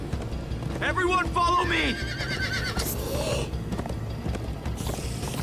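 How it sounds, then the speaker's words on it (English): Several horses in the Minecraft: Story Mode game whinny loudly and gallop with quick, rapid hoofbeats. A person shouts briefly over the neighing and clip-clopping. "Come on, horses!"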